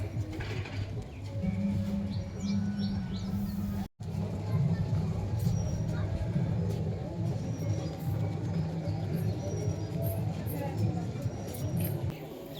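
Pet tumbler pigeons coo in low, repeated throaty rolls nearby, with occasional chirps and wing flutters, under a background of people talking.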